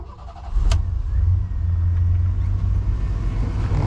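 A Chevrolet C1500 work truck with a 4.3 liter V6 starts up: a short crank and catch, then a steady low idle rumble that carries on close by.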